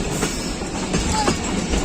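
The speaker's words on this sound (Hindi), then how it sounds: "मिल्लत एक्सप्रेस पूरा जंक्शन पहुंच रही है" A Pakistan Railways Millat Express rumbles into a junction, its carriages giving a steady loud rolling roar with a brief faint wheel squeal, heard close for just a couple of seconds.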